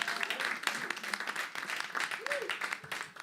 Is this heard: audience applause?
yes